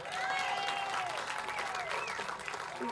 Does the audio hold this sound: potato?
no